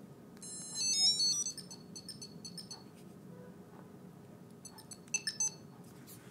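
A Tile Mate tracker plays a bright electronic beeping melody in short bursts, a loud run early on, then a pause and a second quick burst near the end over faint background noise.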